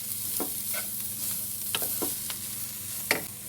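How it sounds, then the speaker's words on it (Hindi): Raw chicken being mixed with salt, red chilli and freshly crushed black pepper in a bowl, giving soft, wet, irregular squelches and scrapes at low volume against a steady background hiss. "इसको भी हम अच्छी तरह मिक्स कर लेंगे इन मसालों में।"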